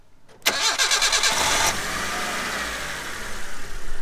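A junk car's engine cranks and catches after being jump-started from a drone battery, a sharp churning start at half a second settling into a steady, loud idle that continues alone to the end.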